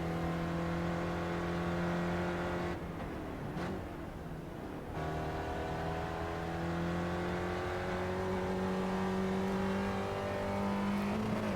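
SCCA Spec Racer Ford engine lapping Oulton Park in iRacing, a buzzing in-car drone that drops off briefly under lifting, then rises steadily in pitch as it accelerates out of the corner, heard alone.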